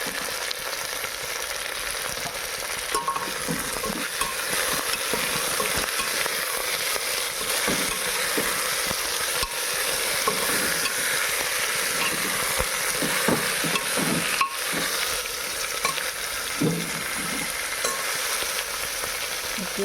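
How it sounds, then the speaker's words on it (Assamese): Goat meat with onion and mustard oil sizzles steadily in a pan, a close, constant frying hiss broken by soft scraping stirs and occasional clinks of the spoon. "সেয়া মই মাংসখিনি লৰাই ভাজি আছোঁ।"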